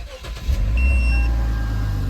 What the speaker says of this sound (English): Oh, and you can hear the muffler.